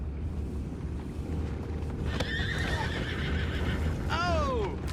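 A horse whinnies loudly near the end, with a shorter neigh before it, in the game Red Dead Redemption, over a steady low rumble of background noise.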